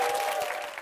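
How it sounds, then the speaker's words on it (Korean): A brief burst of audience applause at a Korean talk concert as a fitness trainer's lecture begins, dense clapping from a crowd with a steady tone running underneath. "박수 주시죠."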